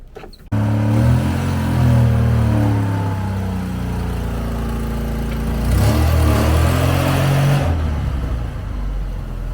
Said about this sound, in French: Bon au moins elle nous aura fait un petit burn.